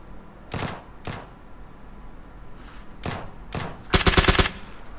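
In-game SCAR-L rifle gunfire in PUBG, several separate sharp shots spaced out, then a fast burst of rapid fire near the end, loud and close with no talk.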